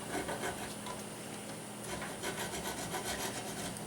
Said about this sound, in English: I'm going to start with my nut file, and I'm just going to open these grooves up